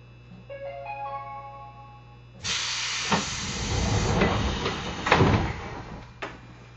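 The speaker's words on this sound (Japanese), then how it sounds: "扉が閉まります。" Sliding doors on a JR Tsurumi Line train (KuMoHa 204-1001) heading to Hamakawasaki close with a sudden loud hiss of air and clatter. A steady low hum and chime-like tones come first, then a few thuds as the doors shut.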